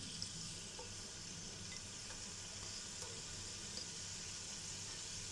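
Quiet, steady sizzling of finely chopped onion frying in hot oil for yakhni pulao, a continuous crackling hiss with no voices.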